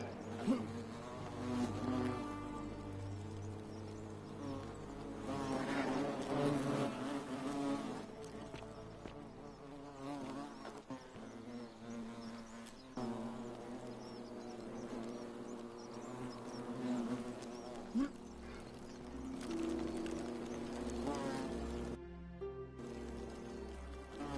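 Bees buzz steadily around a hive in the video game The Forgotten City, a continuous insect drone layered with game music and ambience throughout, with no talking.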